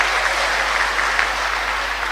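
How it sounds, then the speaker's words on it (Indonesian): Church congregation in Indonesia applauding women dressed in kebaya, a steady wash of clapping that runs evenly throughout at a moderate, close level with no talk over it. "Tepuk tangan dong untuk ini ibu"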